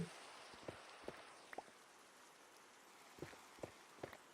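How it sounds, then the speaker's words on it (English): Rain falling in the video game Minecraft: a steady, soft hiss of rainfall with scattered louder droplet taps at irregular intervals, fairly quiet overall and with no talking. "It's raining."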